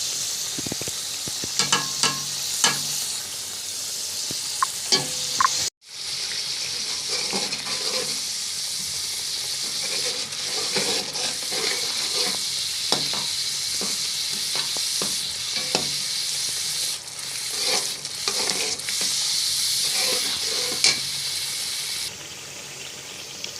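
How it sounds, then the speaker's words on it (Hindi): Onions and masala spices fry in a pan for a fish curry, giving a continuous close sizzle broken by frequent scraping stirs and one brief dropout partway through. "अब हम इसके अंदर बाकी मसाला डालेंगे और अपने मसाले को अच्छे से भून लेंगे।"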